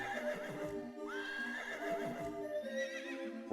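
A cartoonish horse neigh from the Horse Magnifier video game, a bright whinny with rising and falling pitch over a steady musical game background, loud and close with no voices.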